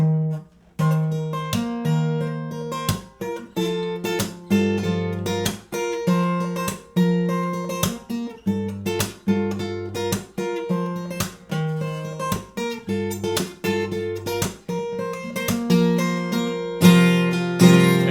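An acoustic guitar is played fingerstyle, with plucked bass notes and chords in a steady rhythm and percussive slaps between phrases, played alone.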